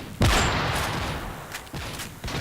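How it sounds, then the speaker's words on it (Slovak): Call of Duty MW3 multiplayer gunfire: a loud burst of rapid shots opens, followed by echoing rumbling reports and a few further scattered shots fading in the game's battle noise. "Strieľal som už len tak naslepo, nevedel som ani kde."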